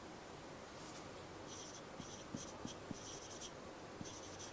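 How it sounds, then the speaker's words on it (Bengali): Handwriting with a pen or chalk during a lesson, faint scratchy strokes in short irregular bursts over a steady background hiss, with a few soft taps. "ধরো এরকম লিখলাম"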